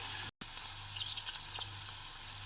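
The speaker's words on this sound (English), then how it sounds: "you want this to braise for about 2 to 3 minutes until the onion is a bit soft" Onions frying and softening in hot oil in a pan, a steady close sizzle with faint crackles and no talking, broken by one brief silent dropout.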